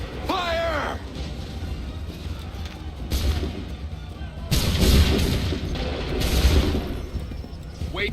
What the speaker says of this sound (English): Open fire. Prepare yourselves. Fire!